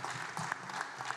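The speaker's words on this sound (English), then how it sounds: "Give Mark a round of applause." Faint, distant-sounding audience applause at an online music summit panel, a soft continuous patter of clapping that lasts about a second.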